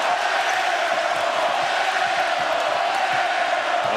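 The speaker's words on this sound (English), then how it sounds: "And he hears it from the sellout crowd here at Hilton Coliseum" A sellout crowd at Hilton Coliseum during an Iowa State versus Kansas basketball game roars in a steady, dense wash of cheering and shouting that holds loud and unbroken throughout.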